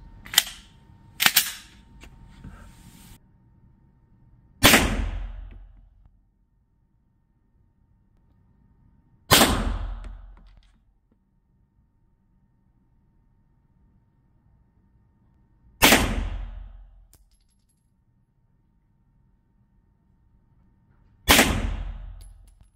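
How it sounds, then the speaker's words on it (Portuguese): Sharp Glock G17 Gen 3 pistol shots ring out one at a time at five metres, six or seven in all, widely spaced, each loud crack trailing off in a short echo. "vamos efetuar os disparos a 5 metros"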